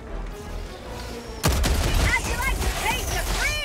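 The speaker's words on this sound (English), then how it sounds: "the heavy machine gun might be a bust, just doesn't have enough ammo" Heavy machine gun fire in Helldivers 2 bursts in loud and dense, a sustained rattling stream running under game effects and voices.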